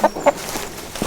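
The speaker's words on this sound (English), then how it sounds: "Rooster, get out of there." A rooster gives two sharp, close clucks in quick succession, then makes softer scratchy sounds.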